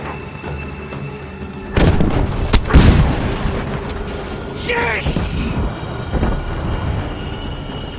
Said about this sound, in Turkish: Patlayacak birazdan bomba.